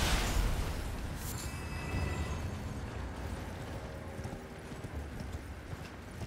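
Horse galloping in the video game Elden Ring, with steady clip-clop hoofbeats running continuously under a dense, noisy game soundscape, fairly loud throughout.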